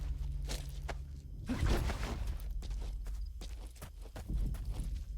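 Horse hooves in the video game Metal Gear Solid V clip-clop in a steady walking rhythm, mid-distance and fairly soft, with low rumbling game ambience beneath.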